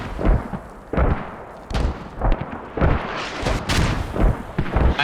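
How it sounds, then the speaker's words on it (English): Mortar fire in the military game Squad during a competitive match, a series of about six heavy booming impacts at irregular intervals, loud and close, each with a rumbling tail. "That mortar's on 3 different fobs"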